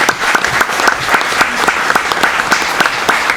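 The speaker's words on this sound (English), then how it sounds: "I'd like for us all to give a round of applause to Mr. Perks for what he's done." Loud applause from a school board meeting audience honoring Mr. Perks, with distinct individual claps standing out in a fairly rhythmic, steady patter close by.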